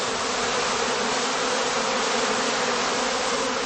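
A dense, loud swarm of honeybees buzzing up close as they are shaken out of a heather skep in a heathland apiary, a continuous even drone with no pauses.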